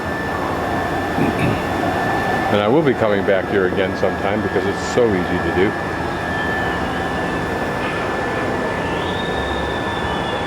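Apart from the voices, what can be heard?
plane coming in over Mexico City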